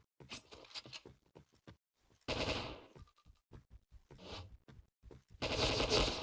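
Bursts of gunfire in the video game Point Blank, short rapid volleys and single shots in uneven clusters separated by brief quiet gaps, fairly close and crisp.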